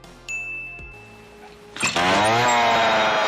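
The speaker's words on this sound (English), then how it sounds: "Final Girl Pam attacks imposter Jason with a friggin' chainsaw" A chainsaw roars to life during a fight scene in the 1985 horror film Friday the 13th: A New Beginning, following a sharp metallic ding and clank, then revving loud and continuous to the end.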